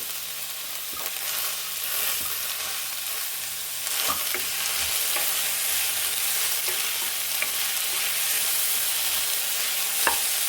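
Raw green peas fry in oil for millet bisibele bath, giving a steady, bright sizzle with faint scattered clicks of stirring throughout.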